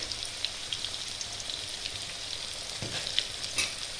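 Potato pieces frying in oil with salt and turmeric, a steady close sizzle and crackle with a few brief stirring knocks against the pan.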